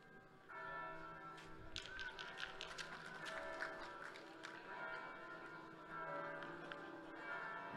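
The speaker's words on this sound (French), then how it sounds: "c'est le carillon de la cathédrale Saint-Jean" Carillon bells of Saint-Jean cathedral ring out across an outdoor pétanque championship venue, a string of bright, overlapping chimes over steady crowd ambience, fairly distant and moderately loud.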